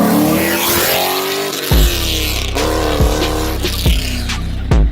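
A loud, gutted Chevrolet Camaro SS pulls hard on a highway, heard from inside. A raw, droning exhaust roar climbs in pitch, broken by several sharp gear-shift breaks, loud and close throughout.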